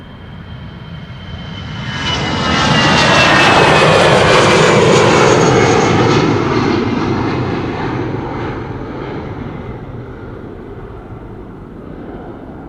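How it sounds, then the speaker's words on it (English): An EasyJet A320 bound for Bristol takes off at Amsterdam Schiphol: engine noise swells from a low rumble into a loud, whining roar, holds at its peak, then slowly fades as the jet climbs away. "This is EasyJet flight 22922"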